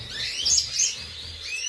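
A pair of caged canaries, an agate female and a variegated male, give quick high chirps and twitters at close range. The calls come in short clustered bursts over a low background hum.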